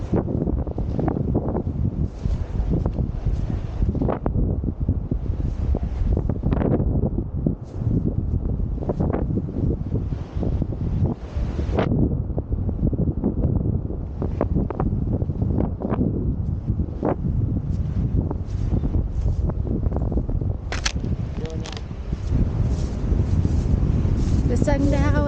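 Strong wind blows on a beach, buffeting the microphone with a constant loud roar and rumbling gusts throughout.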